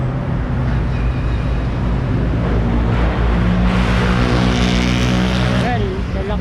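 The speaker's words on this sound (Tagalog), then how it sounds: "Kailangan pang ganun kalakas yung mga tambucho." Loud car exhausts roaring past along a busy riverside road near Lawton River Park and Pasig Ferry, a continuous close rumble that swells toward the end, with a voice talking over the traffic.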